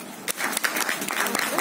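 Audience clapping at a multigenerational project ceremony, a close patter of many hands building quickly and holding steady, with a voice speaking at the start.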